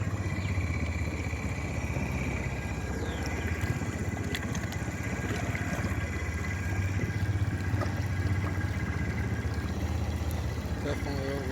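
Honda ATV engine running steadily while driven through a deep pond with alligators, a continuous mid-pitched drone heard close throughout amid outdoor background noise.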